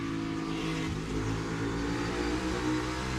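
NASCAR Cup Series stock cars racing at a Navy base circuit, their engines roaring in a loud, steady drone with a rising and falling pitch as the cars pass close by.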